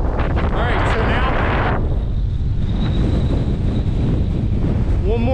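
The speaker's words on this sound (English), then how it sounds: "the wind's a bit stronger than" Strong gusting wind buffets the microphone on an exposed Welsh mountain, a loud, steady roar that surges at the start and then eases slightly, with no speech.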